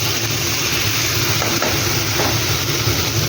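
Chicken coated in ginger paste, salt and pepper frying in a pan, a steady, loud, unbroken sizzle with a low rumbling hiss underneath, close by and without any voice.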